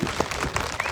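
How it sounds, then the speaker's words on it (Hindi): A crowd at a political rally in the capital of Himachal Pradesh breaks into a brief, loud burst of applause, a dense wash of clapping lasting about a second. "सम्मानित करने के लिए हमारे अम्बेडकर वेलफेयर सोसाइटी के अध्यक्ष जोरदार ताली।"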